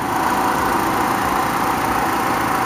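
A 2010 Chevrolet Cobalt with a 2.2 liter four-cylinder engine idles with a steady, even hum, close and without talk.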